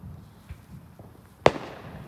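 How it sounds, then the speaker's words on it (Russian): A single sharp firework bang cracks out loudly, preceded by a few faint distant pops against a quiet outdoor background. "Опа, салютик пропустили."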